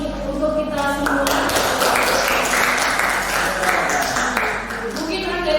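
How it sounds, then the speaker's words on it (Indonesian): An audience applauding at a school leadership presentation, with dense, continuous clapping close by that stays steady throughout and fades slightly toward the end. "Aplaus untuk kita semua."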